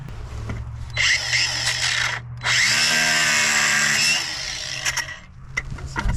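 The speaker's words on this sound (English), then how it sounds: "I'm just going to cut the clamps." Power tool cutting metal ear clamps on a tie rod bellow of a 1990 Volvo 740, loud close grinding whine in two bursts with a short break and quieter scraping afterward.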